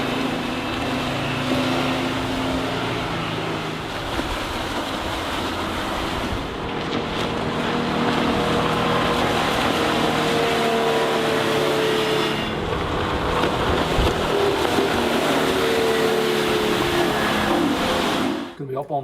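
A Monterey 204FS motorboat with a 21-inch four-blade prop cruises over water with a steady engine drone, hull slapping through waves and heavy wind rush across the microphone throughout.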